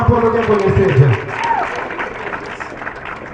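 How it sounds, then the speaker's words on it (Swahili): An audience at a Kenya Society for the Blind live event claps while a voice speaks over the start, then the applause carries on alone, thinning and growing quieter. "Makofi tena kwao wanapoongea kwenye stage."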